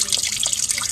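Tap water splashing and trickling steadily as a laboratory beaker is rinsed out at a sink, a continuous close hiss of running water with small drips throughout.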